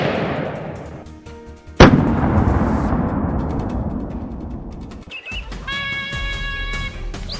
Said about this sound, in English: a bullet is fired instantly, and the boar collapses on the spot